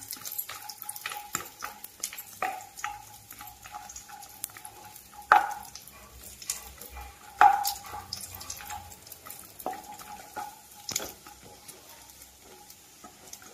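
Cut almonds, cashews and raisins fry in hot ghee with a soft continuous sizzle. Stirring brings frequent clicks and taps, and a few louder scrapes stand out against the vessel.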